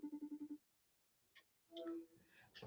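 A FaceTime call ringing on a phone, a quick run of six evenly spaced electronic tone pulses, soft and close, followed by a few faint clicks and brief tones.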